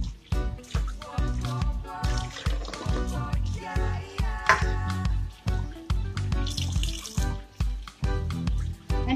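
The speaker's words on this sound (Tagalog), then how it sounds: "Hugasan na natin siya." Raw chicken pieces washed one by one under a running kitchen tap, with repeated splashing, squishing and clattering bursts in an uneven rhythm, close and fairly loud.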